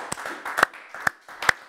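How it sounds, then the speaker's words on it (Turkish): Sad applause sound effect: a few slow, sparse claps about half a second apart, thin and close, with faint murmuring underneath. "Üzgün alkış geliyor sevgili alkış severler."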